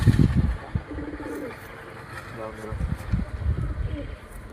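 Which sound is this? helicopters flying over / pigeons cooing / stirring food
pigeons cooing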